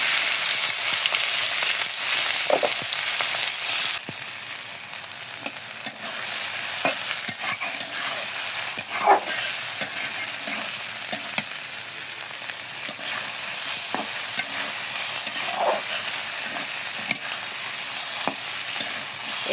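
Banana stem frying with egg in a pan, a steady close sizzle running throughout with occasional scrape-and-stir clinks from a utensil.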